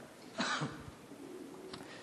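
A single short, muffled cough from a speaker giving a talk, followed by a faint throat noise, heard close against quiet room tone.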